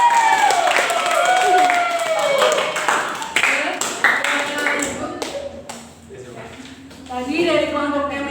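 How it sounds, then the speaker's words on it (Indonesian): Clapping from a classroom audience during a physics teaching-practice session, moderately loud and mixed with voices talking over it, fading into talk partway through. "tepuk tangan"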